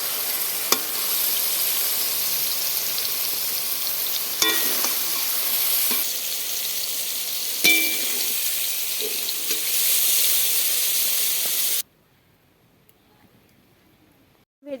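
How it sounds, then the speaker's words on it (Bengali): Wild mushrooms fry lightly in oil in a pan with a steady, close sizzle broken by a few clinks of stirring, then the sound cuts off abruptly into near silence. "ছাতাটা আমি হালকা ভাজা ভাজা করে নিই"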